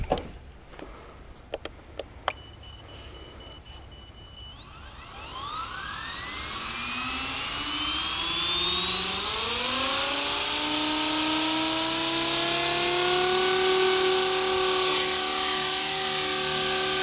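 A Blade 180 CFX RC helicopter on its first flight spools up indoors: a few clicks, then a rotor and motor whine climbs steadily in pitch and loudness and settles into a loud, sustained, close high-pitched drone.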